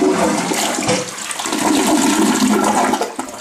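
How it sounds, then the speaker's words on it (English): An American Standard low-flow toilet flushes with a loud, close rush of water that swirls steadily for a few seconds and then begins to tail off. "It's an American Standard, and the literature on it claims that it'll flush a bucket of golf balls."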